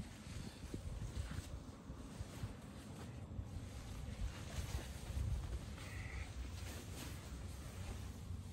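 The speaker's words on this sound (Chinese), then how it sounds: "这里面来着，风很大" Strong wind buffeting a mountain campsite in Tibet, a steady, heavy rumble and roar of gusts against the microphone, continuous and close throughout with no voices.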